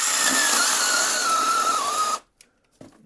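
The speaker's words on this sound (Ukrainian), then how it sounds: "Беремо Дніпро М, я ріжу так же само, дивіться." Dnipro-M cordless power tool cutting in a workshop: a loud, steady high whine for about two seconds that cuts off abruptly, followed by near silence and a few faint knocks.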